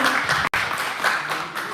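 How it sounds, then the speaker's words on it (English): Audience applause at an election candidate question time event, a steady wash of many hands clapping for about two seconds with one brief cut, no talk over it. "Can we have a round of applause for Marianne, please?"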